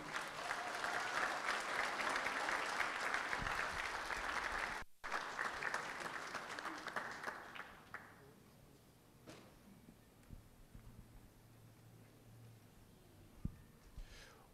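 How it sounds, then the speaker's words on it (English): Audience applause at the Miss Samoa Pageant 2021, loud and dense for about five seconds, breaking briefly, then continuing before fading to a sparse patter and scattered claps. "Ladies and gentlemen, a warm round of applause for Mrs."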